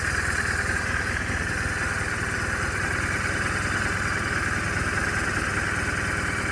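A 2007 BMW R1200RT motorcycle engine runs steadily and close by, a continuous even drone with a low mechanical throb and no voices, holding the same pitch and level throughout.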